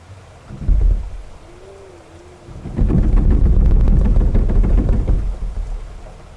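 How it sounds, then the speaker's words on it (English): A thunderstorm with heavy rain: a near thunderclap booms early, then a louder rolling crash of thunder swells over steady rain and keeps rumbling. "this storm is causing quite the disturbance"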